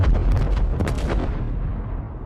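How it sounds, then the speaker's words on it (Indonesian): Dozens of stored gas cylinders blow up in a loud, deep explosion that roars and rumbles, with sharp cracks early on, then slowly fades into a low rolling tail. "Ledakan besar pun terjadi."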